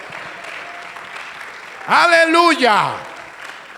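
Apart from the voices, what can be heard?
congregation applauding in church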